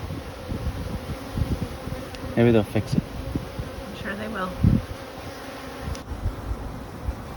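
Honeybees buzzing around an opened beehive during maintenance, a faint continuous hum running throughout beneath a few brief spoken remarks.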